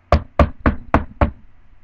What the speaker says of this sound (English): Hit the door.